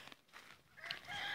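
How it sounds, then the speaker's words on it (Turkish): Chicken clucking on a village farm, a few short faint calls growing slightly louder toward the end, with no talking. "Ana gene o tavuk orada."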